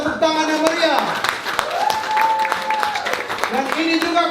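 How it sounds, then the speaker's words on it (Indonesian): Community gathering of Kerukunan Keluarga Kawanua USA welcomes the K3 committee with scattered, lively clapping that runs underneath loud voices and cheering, the claps steady but partly masked by the crowd's sound. "Mari kita sambut dengan tepuk tangan yang meriah."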